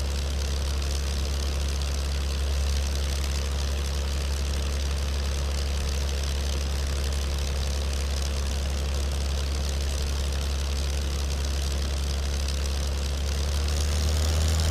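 Airliner engines in an airplane simulator game drone at a constant low idle while taxiing, a continuous heavy hum with no voices.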